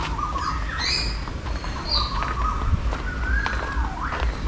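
Several birds chirp and whistle in short, bright calls over a soft outdoor background hum in a bird park, with no talking.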